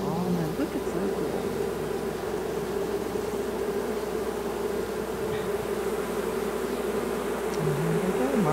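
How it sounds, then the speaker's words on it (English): A honeybee swarm hums and buzzes loudly and continuously at close range as the bees move into a hive box, with a dense drone of many wings throughout. "The bees are guiding the others in."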